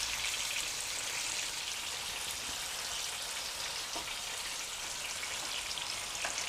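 Mutton keema kababs fry in a pan over low heat, giving a steady, dense sizzle with faint crackling pops, close and continuous with no voices.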